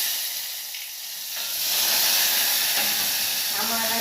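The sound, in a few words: vegetables being tempered, sizzling in hot oil on gas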